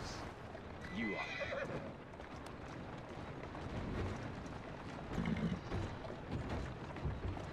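A horse in the video game Assassin's Creed Syndicate gives a whinny, followed by steady clip-clop of hooves under a dense rumbling street ambience.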